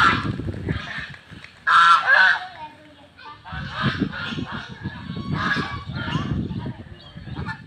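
White and black domestic ducks near a river honk and quack in repeated nasal bursts, one loud close volley in the middle and others scattered, over rustling background noise.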